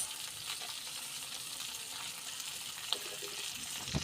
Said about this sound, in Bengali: এবার এই তেলে আমরা আরও একটি তেল দিয়ে দিব। এরপর আমরা দিয়ে দিলাম তেজপাতা, দালচিনি, এলাচ।